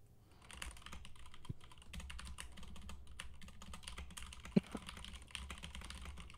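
Steady, rapid clatter of keys on a computer keyboard, faint and continuous throughout with a few sharper taps, no talking.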